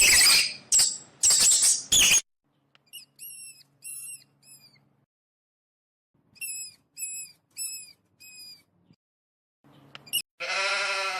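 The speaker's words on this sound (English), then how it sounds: "Goat." A goat bleats in two runs of high, wavering cries, each a rhythmic series of four or five quavering calls, clear and close, following a short burst of loud noise and ending with another harsh bleat.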